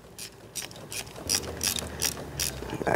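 Repeated clicking of a ratchet wrench fitted with an 8 mm socket and extension, snugging down head stud nuts on a Mercedes C63 M156 V8 engine; steady quick bursts of ratcheting, close and fairly loud, with no talk.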